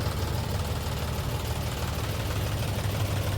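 A tractor engine runs steadily at a low, rumbling idle nearby, with an even throb and no speech over it.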